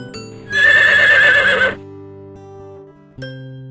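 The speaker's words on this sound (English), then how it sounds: "Horse." A horse neighs loudly in a long, shaky whinny lasting about a second, followed by quieter low snorting and a brief final snort.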